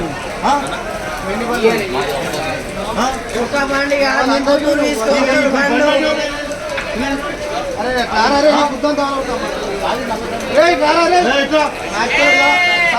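Goats and sheep bleat repeatedly at a goat market in Navipet, a dense chorus of wavering cries close by, mixed with loud, agitated human voices throughout.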